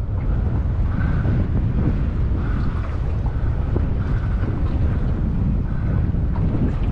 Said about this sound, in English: See, the wind's up and it's a bit rough.